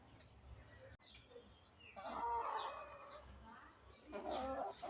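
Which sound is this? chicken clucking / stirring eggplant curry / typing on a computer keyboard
chicken clucking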